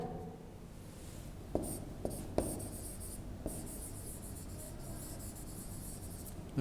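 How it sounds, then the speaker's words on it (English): Chalk scratching and tapping across a classroom blackboard, a continuous faint rasp broken by several sharp taps as strokes begin, steady and close. "the teacher is writing on the blackboard."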